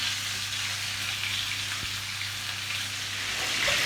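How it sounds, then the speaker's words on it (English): A steady, close sizzle of picanha steak fat crackling fat side down in a very hot pan, a continuous hissing spatter with no talking. "So we'll leave that fat side down just to sizzle for a minute or so."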